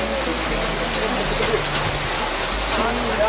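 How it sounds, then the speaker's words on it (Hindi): Heavy rain pours steadily in Shillong, a dense, loud, continuous hiss filling the scene with no pauses. "बारिश आ गई"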